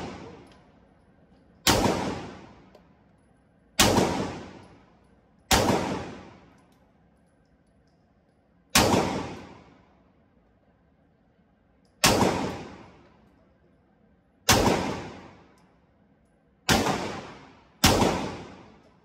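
A MAC 11 fires nine loud, sharp single shots at uneven intervals of roughly one to three seconds. Each report rings out briefly before fading, with no talking between shots.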